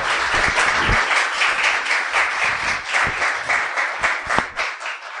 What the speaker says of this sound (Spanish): Déselo al Señor ese aplauso, ¿no? Déselo al Señor, fuerte al Señor.